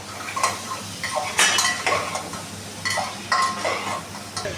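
A spoon scrapes and clatters against a cooking pot as food is stirred, producing irregular metallic bursts over a faint sizzle from the hot pan. There is no talk.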